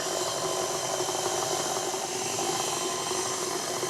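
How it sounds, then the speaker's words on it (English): An electric stand mixer with a cake paddle turns banana bread batter on a very slow speed, giving a steady, even whirring motor drone with faint rubbing from the bowl throughout. "we're going to mix it on a very slow speed until it's just come together"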